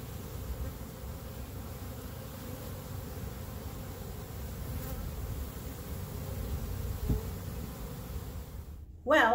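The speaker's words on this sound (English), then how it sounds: "the bees are all buzzing around keeping busy" Honey bees buzz steadily around a beekeeper's hives outdoors, a dense continuous hum of many insects at moderate volume with no talking.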